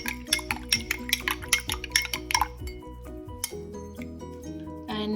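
Pizza dough ingredients mixed in a bowl, a run of quick clinks and scrapes from a utensil against the bowl that give way to a softer, quieter stirring sound, with gentle music playing underneath.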